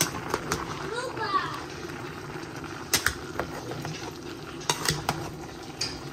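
Chicken and mixed vegetable curry of six or seven vegetables stirred in a pan, with a spoon scraping and clinking against the metal in irregular bursts alongside a faint sizzle, a voice talking over it.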